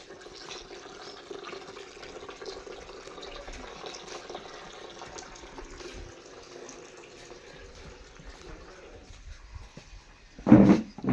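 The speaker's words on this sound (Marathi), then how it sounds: "तांदूळ धुवून पाणी पण द्या त्याच्यामध्ये मला" Rice being washed under running water in a village home kitchen, a faint steady trickle and splash continuing for several seconds before a brief louder clatter near the end.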